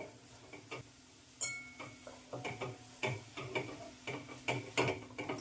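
Gram flour being stirred into grated cucumber batter, a spoon scraping and tapping the bowl in a steady run of short, close mixing strokes with no talking.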